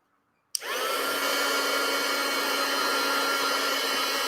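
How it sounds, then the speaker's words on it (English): Hair dryer drying watercolor paint switches on abruptly after a moment of silence, then blows in a loud, steady whirring roar with a constant motor whine until the end. "if you don't like the noise, turn the sound down because I'm going to get the dryer out"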